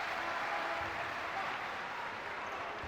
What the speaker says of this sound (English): the applause you can hear is from the Kosovan supporters to see Berisha back in the game